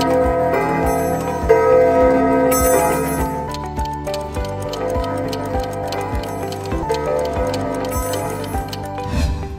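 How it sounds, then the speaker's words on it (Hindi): A collection of antique mechanical clocks ticks in overlapping rhythms, with bells and chimes ringing over the steady tick-tock, busy and close. "घड़ियों की जो टिक टिक होती है, हर घड़ी का अपना अलग सा साउंड होता है।"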